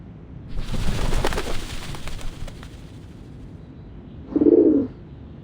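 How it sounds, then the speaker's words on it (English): Doves at the Whitestone House in the video game Reverse 1999 give one short, mellow coo near the end, following a rumbling, hissing swell of ambient game sound. "The doves of the Whitestone House are here."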